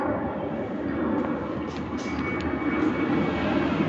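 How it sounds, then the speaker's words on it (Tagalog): An airplane flying overhead above a park, a steady broad roar of moderate loudness that holds throughout the clip without voices. "Uy! Aeroplano guys."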